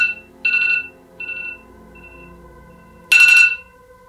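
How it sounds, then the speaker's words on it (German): A phone ringtone sounding during a creepy late-night ritual game: short bright electronic chimes repeat in bursts with pauses between, ending in a louder, fuller ring, with no voices. "wenn dieser Klingelton ertönt"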